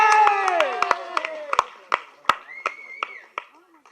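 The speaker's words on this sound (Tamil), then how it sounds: "தயவு செஞ்சு நீங்களே ஒரு தடவை கைத்தட்டிடுங்க" A speaker's voice runs under a series of scattered, separate claps from a small audience at a Tamil stage event, about a dozen sharp hand claps spread unevenly over a few seconds.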